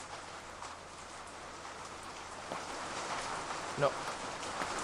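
Rain falling in a video game, a soft steady hiss of drops throughout, faint and continuous, with a brief spoken word and a small knock near the end.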